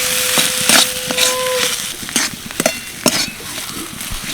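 Potato filling seasoned with turmeric, chilli powder, garam masala and chopped coriander is stirred in a pan, with close, repeated scraping strokes and light clinks of the spoon over a soft sizzle.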